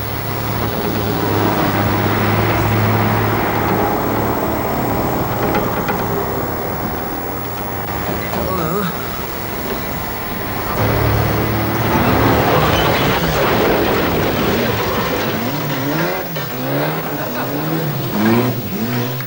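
A car pulls away and drives off on a television studio set, its engine rising and falling as it moves away, with studio noise and a few voices mixed in.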